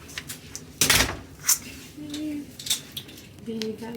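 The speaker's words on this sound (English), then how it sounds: "Let me shut the door." A hotel room door on a Carnival cruise ship swings shut with one solid thud near the start, followed by lighter handling clicks and faint room noise.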